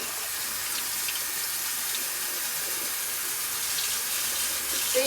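Tap water runs steadily into a sink while smocking fabric is rinsed, a continuous close hiss and splash with no talking.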